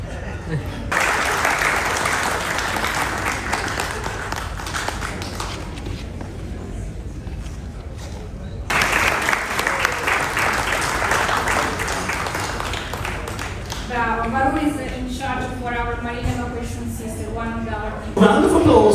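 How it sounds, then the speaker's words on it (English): Sustained applause from a cruise ship audience for the senior officers of the Explora 2 at a captain's farewell, broad clapping in two waves, then a voice speaks over the fading claps. "Let's give them a big round of applause"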